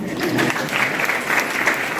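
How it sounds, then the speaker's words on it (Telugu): A crowd at a Guru Purnima celebration applauds three people, with dense, steady clapping throughout, fairly close and loud, with no one speaking over it. "ఆ ముగ్గురు కి క్లాప్ హ్యాండ్స్"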